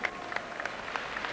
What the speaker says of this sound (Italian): grande applauso anche a Didi Bridgewater